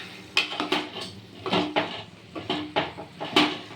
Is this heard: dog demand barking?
no